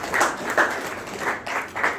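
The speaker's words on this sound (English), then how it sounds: "Please clap for him." An audience at a National Youth Week workshop in a Panjim hall claps for a music college principal, a sparse, uneven patter of a few hands in brief bursts rather than a full ovation.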